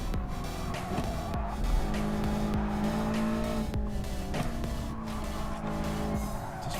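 Race car engine in Wheel2Wheel sim racing at the Nürburgring GP, a steady droning engine note with shifting revs, tyre noise and other cars around, loud and continuous with no talking.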